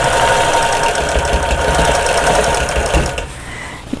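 Domestic sewing machine quilting a table runner, its needle chattering in a fast, steady rhythm close by, then slowing and stopping near the end.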